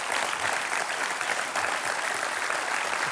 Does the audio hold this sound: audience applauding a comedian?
yes